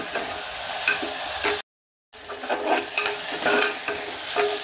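Onion with potato and peas sautéing in oil for cooker masala bhaat, a steady close sizzle with a spoon scraping and stirring through it, broken by one brief silent gap.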